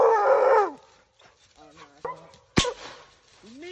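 Young Plott and Bluetick hounds at a tree holding game, a long loud howling bay followed by shorter yips and barks, close and echoing outdoors, with a voice in between.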